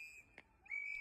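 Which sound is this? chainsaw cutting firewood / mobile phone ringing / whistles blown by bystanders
whistles blown by bystanders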